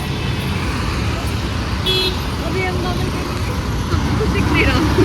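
Continuous street traffic rumbles close by on FC Road, Pune, with a short car horn toot partway through and voices talking underneath.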